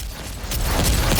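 Rapid gunfire from weapons in the arena shooter Splitgate, a dense burst of overlapping shots over about a second, loud and continuous with no voices.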